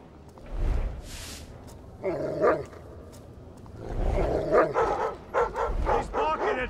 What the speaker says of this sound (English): He's barking at someone!